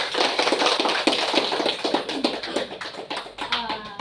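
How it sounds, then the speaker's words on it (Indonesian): A class claps together at the end of a lesson, a quick, uneven patter of many hands tapping close by that tapers off, with a few voices faintly mixed in. "Tepuk tangan untuk kita semua hari ini."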